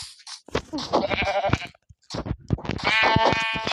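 Sheep bleats from a game mixed with electronic tones and effects, several cries in quick succession, close and fairly loud.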